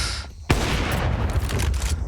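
Pistol gunfire in a Counter-Strike professional match, SAW vs. GamerLegion in the ESL Pro League: after a brief lull, a burst of sharp, loud shots breaks out and rattles on densely to the end.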